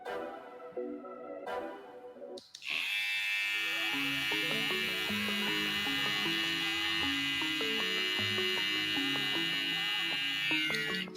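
After a short stretch of other sound, a hair trimmer switches on and runs steadily for several seconds. It gives a continuous electric buzz with a bright high whine, close to the microphone.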